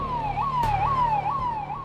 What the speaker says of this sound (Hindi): हमें पुलिस के सायरन की आवाज आई।